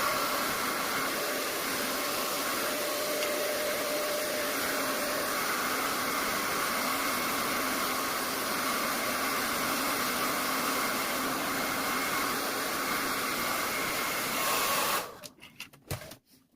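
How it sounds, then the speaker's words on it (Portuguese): A hair dryer blows steadily for about fifteen seconds, heating a molded piece to release it from its mold, a constant close whooshing hiss that cuts off abruptly near the end, leaving a few faint clicks. "Eu vou aquecer um pouco a peça com o secador para que ela desvire molde com maior facilidade."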